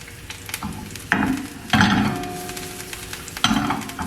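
Mushrooms sizzle in olive oil in a hot pan, a steady close frying hiss that swells into louder bursts each time fresh pieces are added.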